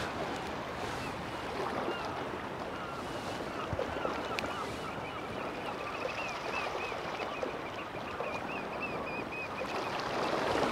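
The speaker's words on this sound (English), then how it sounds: "You hear the birds." Birds calling at dawn beside water while out fishing, faint thin chirps and calls spread over a steady broad outdoor wash, distant and quiet throughout.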